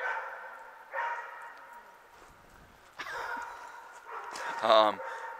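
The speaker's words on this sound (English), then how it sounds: "The other dog, the next door neighbor's dog, must be out." A neighbour's dog barks outside in a few short, separated bursts at moderate distance, and a person's voice is heard among the barks.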